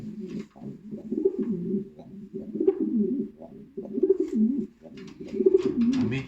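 A racing pigeon coos in soft, low repeated phrases, close by and fairly quiet, with a steady rhythm of rolling coos and faint background noise.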